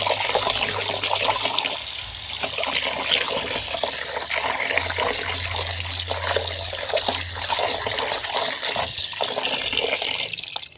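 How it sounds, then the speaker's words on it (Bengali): Fish being washed under a running kitchen tap, with a steady continuous trickle and splash of water heard close up for the whole stretch, unbroken and without talk. "চলো মাছ ধুয়ে নিই।"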